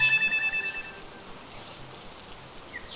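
Rain pours in a cartoon scene, a soft, steady hiss of falling drops that stays even throughout, with a few faint tonal sounds at the start.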